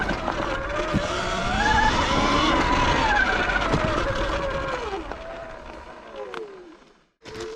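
An X160 electric bike ridden off-road gives a high motor whine that rises and falls with throttle, mixed with rough tire and trail noise. It fades out abruptly near the end.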